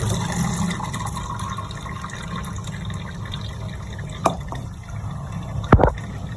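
Boiled potatoes tipped into a strainer, water running and gurgling steadily under a faint hum, with a couple of sharp clinks from a pot or utensil near the end.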